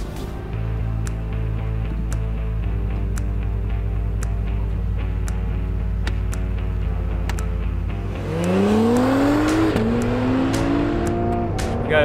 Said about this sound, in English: That's great to hear as you're flooring it out of the pit exit.